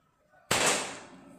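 A Marauder air rifle fires a single shot: one sudden sharp crack after near silence, loud and close, then a decaying burst of noise that fades over the next second.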